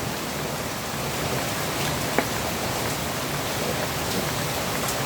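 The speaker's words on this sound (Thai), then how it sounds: "ฝนตกฝนตกค่ะ ตกแรงมาก" Heavy rain pours down steadily in a dense, constant hiss of drops striking surfaces, loud and close, with one faint click partway through and no voices.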